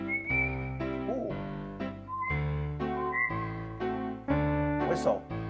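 A whistle voice on a Lowrey EZ series keyboard plays a sequence of sustained, clearly separated pure whistled notes, with a soft breathy flutter here and there.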